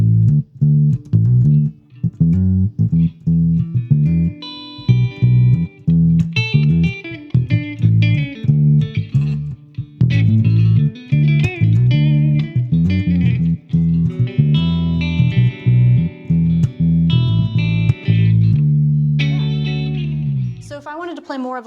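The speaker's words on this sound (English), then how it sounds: "If I just wanted to play a bass line, I'd play over this front pickup" Bass guitar played on the front pickup, a low, punchy bass line of plucked notes with effects, steady and close, with short pauses between phrases.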